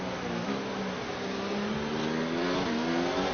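A race car engine in F1 2019, driven at the Australia Grand Prix, drones steadily at mid pitch, with brief shifts in tone as the driver downshifts manually, loud and alone with no talking.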